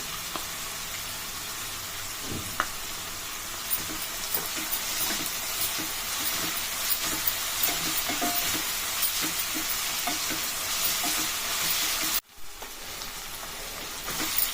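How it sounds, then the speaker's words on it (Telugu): Ginger garlic paste frying with softened onions in oil, a continuous close sizzle with soft stirring scrapes throughout, a brief dip near the end and no talk. "ఉల్లిగడ్డలు మగ్గిన తర్వాత ఒక స్పూన్ అల్లం వెల్లిపాయ వేసుకోవాలి"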